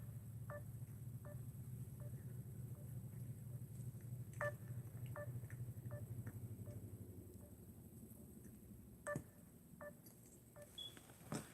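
A phone dials out with a quick series of faint, evenly spaced DTMF keypad tones over a low steady hum. Nobody speaks.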